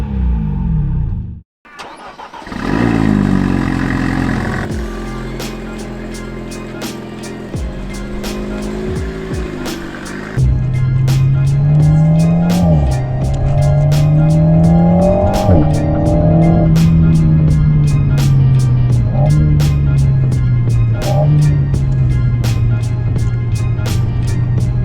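An Alpine A110 S with a 1.8 turbocharged four-cylinder engine and rear-wheel drive, on the Julierpass mountain road in Switzerland, starts up and idles, then revs and pulls away with loud, close engine notes rising and falling through gear changes.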